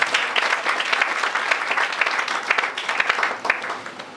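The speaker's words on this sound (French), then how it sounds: "Acclamons très fort pour le Seigneur Jésus." A church congregation applauding loudly for Jesus, sustained dense clapping from many hands that fills the space evenly, without speech.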